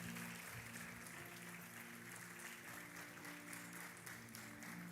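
Church congregation applauding during a worship service, a steady dense wash of clapping that holds throughout, with a sustained organ-like musical tone underneath.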